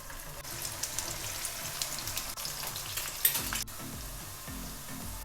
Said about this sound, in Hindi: इसमें मैंने सारी भिंडियाँ डाल दी हैं। अब मैं भिंडी को 2 से 3 मिनट के लिए फ्राई करूँगी।